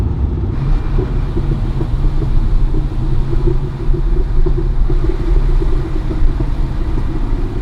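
A Porsche 911 Turbo 3.3 engine with its stock muffler rumbles steadily nearby, with a deep, throaty exhaust drone that holds a constant, loud low growl throughout.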